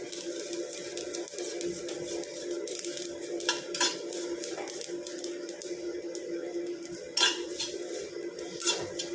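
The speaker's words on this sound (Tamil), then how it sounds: "இப்போ இது எல்லாத்தையும் சேர்த்து நல்லா ஃப்ரை பண்ணி எடுத்துக்கலாம்" Nigella seeds and a spice mix dry-frying in a pan over a low flame, for a homemade hair dye: a steady close rustle with repeated clinks and scrapes of a spoon against the metal, and no talk.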